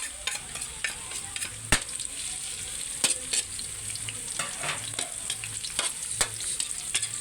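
Onions sizzle steadily in a hot pan while being stirred for pansit bihon, with irregular scraping knocks of the utensil over the constant frying hiss and no talking.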